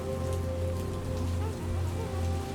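Steady rain falls on surfaces as a woman waters flowers, a dense, even hiss of drops with a constant low hum beneath and no voices.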